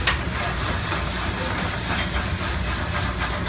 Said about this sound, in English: We're gonna add some white wine to the pan. Basically, you're deglazing all those good crispy bits that got stuck to the pan.